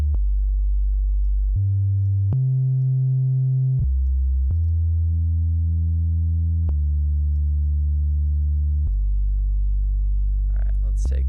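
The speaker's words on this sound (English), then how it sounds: "let's go to an analog BD sine. We'll hear that." Clean, deep sine-like analog bass drum synth tones stepping through a sequence of sustained pitches, each starting with a soft click, alone and steady.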